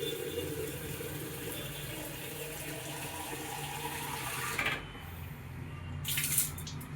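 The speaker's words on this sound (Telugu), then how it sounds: "ఇప్పుడు చల్లగా అయింది, చల్లటి నీళ్ళు పట్టుకోవాలి మనం" Cold borewell water runs from a tap into a container in a steady, fairly quiet stream. The flow shifts and splashes briefly near the end, with no talking.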